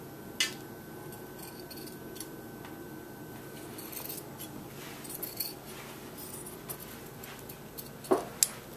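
Fabric scissors cut through two layers of fabric along the neckline, with sparse, quiet snips and clicks scattered over soft background noise, growing sharper toward the end.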